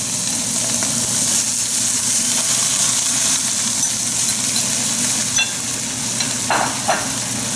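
Broth simmering in a pan of sauce for Chinese crisp velvet shrimp, a steady soft sizzle and bubbling hiss that holds even throughout, with a couple of faint clinks near the end.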